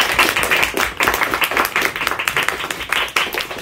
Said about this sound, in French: On applaudit, s'il vous plaît, s'il vous plaît.